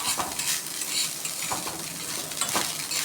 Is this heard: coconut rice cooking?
yes